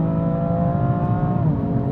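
A BMW M3 pulls hard away from a launch control start, its engine a loud, close, rising harmonic roar building steadily through the revs, with no talk over it.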